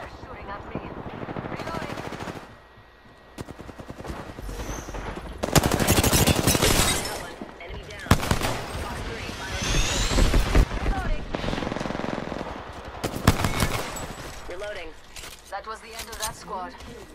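Bursts of automatic gunfire in the battle-royale shooter Apex Legends, with rapid repeated shots in several loud volleys mixed with game effects while a player talks over much of the action.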